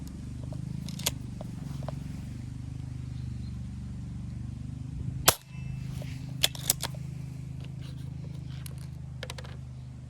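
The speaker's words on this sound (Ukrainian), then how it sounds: "стріляє також пуск не тугий, не тугий в порівнянні з іншими пневматичними пістолетами" A Hatsan 25 air pistol fires a cap round: one loud, sharp crack near the middle, with a few faint clicks before and after over a steady low hum.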